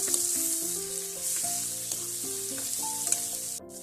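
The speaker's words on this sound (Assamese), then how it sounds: "এতিয়া মই ইয়াতে মছলাখিনি দি দিছো।" Spices frying in hot oil for an Assamese boiled fish curry, a dense, loud, continuous sizzle with light stirring, while a melodic tonal tune plays underneath and no one speaks.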